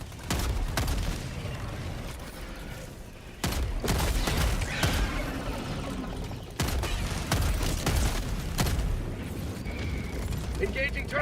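A plasma grenade launcher fires in the video game Helldivers 2, with a few loud, sharp blasts spaced seconds apart over dense, continuous battle noise.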